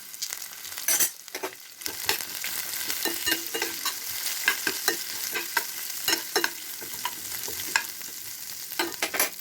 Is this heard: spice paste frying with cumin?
yes